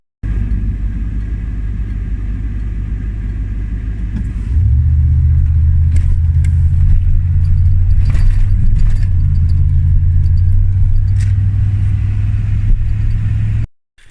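A car on the drive home produces a steady, loud low road rumble and engine drone throughout, deepening and strengthening partway through as it gathers speed, with no talking.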